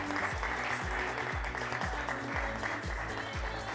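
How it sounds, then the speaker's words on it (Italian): Studio audience clapping for a newly crowned beauty pageant winner, a steady mass of applause carried over a loud pulsing music track that repeats a rhythmic beat throughout. "Eccola qui. Un applauso."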